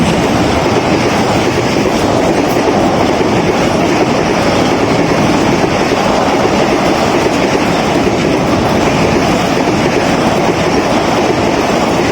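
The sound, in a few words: Business Express 6311 train passing on rails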